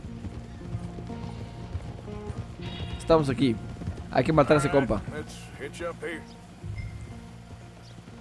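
Horse hooves clip-clop in Red Dead Redemption 2 as a rider slows and arrives, soft rhythmic steps running under someone talking in Spanish, with a short whinny-like rise partway through.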